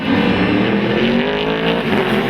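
Race cars moving off at the start of the 2008 Nurburgring 24 hour race, among them Lexus LF-A and VW Scirocco entries, in a loud, sustained roar of many engines revving and droning close by.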